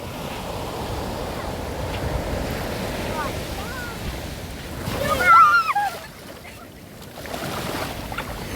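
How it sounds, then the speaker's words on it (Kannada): Ocean waves wash steadily onto Someshwara beach in Mangaluru, a continuous broad surf roar mixed with gusting wind noise that swells briefly midway before settling back. "ಇದು ನೋಡಿ ಸೋಮೇಶ್ವರ ಬೀಚ್"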